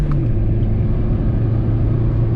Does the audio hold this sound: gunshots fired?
no